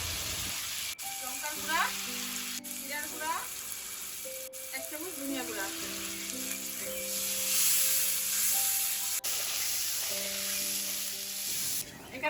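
Ground ginger, onion, garlic and green chilli paste with salt and turmeric fries in a pan, producing a steady close sizzle with a few sharp clinks, while someone speaks intermittently over it.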